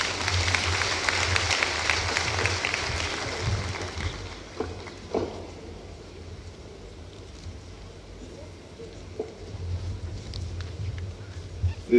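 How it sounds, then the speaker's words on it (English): Applause for a speaker at an accountants' conference plenary session, a broad clapping wash from a crowd that fades after a few seconds into quieter room noise. "I think that he needs a louder applause."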